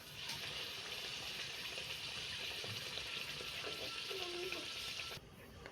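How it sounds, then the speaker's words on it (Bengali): Luchi dropped into hot oil in a kadai, frying with a steady, loud, bright sizzle that holds evenly for about five seconds before suddenly dropping away at the end. "কড়াতে তেলটা গরম হয়ে গেছে, এবার আমি লুচিটা ছেড়ে দেবো।"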